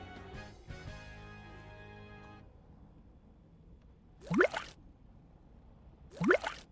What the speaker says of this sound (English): There is a sound for put down water.